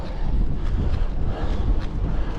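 A headwind buffets the microphone of a bicycle climbing a long uphill road, producing loud, continuous low rumbling gusts that rise and fall unevenly, with no voices.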